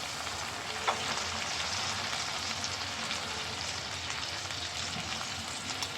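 Mola fish sizzle and fry in a pan with browned onions, ground cumin and mustard paste, giving a steady, close crackling hiss with no talking.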